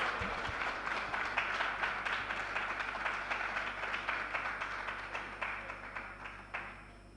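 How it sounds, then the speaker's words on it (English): Audience at an international women's taxation conference applauding, a full round of dense clapping that stays even before tapering off toward the end. "So let's give her a round of applause."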